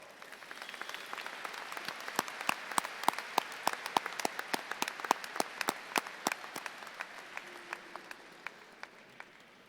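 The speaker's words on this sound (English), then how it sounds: "let's share a round of applause again for our Springdale High School choir" Applause for the Springdale High School choir at a 2017 high school graduation ceremony, a sparse crowd clapping in distinct separate claps that thin out toward the end, heard from a distance in a large hall.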